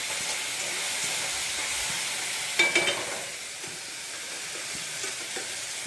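Spice masala frying in oil in a pan, a steady hissing sizzle close up, broken once by a short cluster of sharp stirring scrapes.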